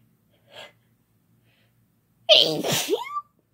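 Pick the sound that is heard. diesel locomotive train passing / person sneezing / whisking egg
person sneezing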